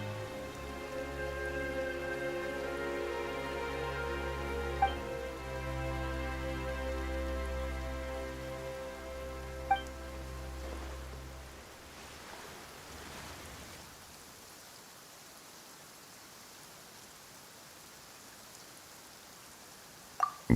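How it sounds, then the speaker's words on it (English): Steady rain in the video game Genshin Impact hisses over a low, droning musical tone that fades away, leaving just the soft patter of rain with a few faint chimes. "Why is it raining all of a sudden?"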